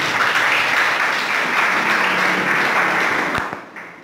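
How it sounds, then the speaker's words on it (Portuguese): A church congregation claps in dense, sustained applause that fades away near the end. "Você pode aplaudir ao Senhor"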